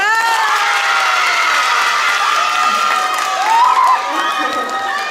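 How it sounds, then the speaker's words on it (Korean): A school auditorium crowd of high school girls claps and cheers for a student presenter, with loud, steady applause, shrill shouts and whoops rising over it. "우리 모두 박수로 맞이해볼까요?"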